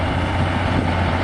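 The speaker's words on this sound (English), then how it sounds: "we've got a John Deere tractor here." A John Deere 6150R tractor of about 150 horsepower pulls a reversible plough through wheat stubble in Suffolk, its engine giving a steady, loud, low drone.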